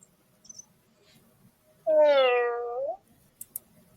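A pet imitates a cat's meow with a single clear, drawn-out, tonal call, close and loud against near silence, followed by a couple of faint clicks.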